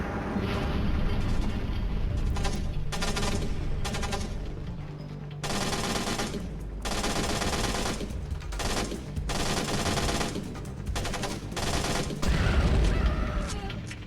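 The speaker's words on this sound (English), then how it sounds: "Okay, so some guy above started shooting me." Sustained automatic gunfire and bursts of shooting in a modern clandestine-warfare video game, loud and dense, coming in long rapid volleys with short gaps between, heavy booms underneath.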